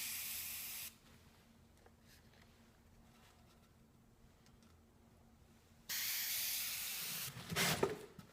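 An airbrush sprays paint over a card stencil, giving a steady hiss that opens the clip, falls away to near silence, then returns loud with a brief rougher burst near the end.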